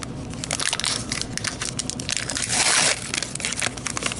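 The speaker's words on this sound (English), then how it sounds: "Again, the merry sound of tearing going on here." Trading sticker card packs from 1991 being torn open by hand, a close, continuous crinkling and ripping of paper wrappers with a denser tearing burst near the end, with no voices.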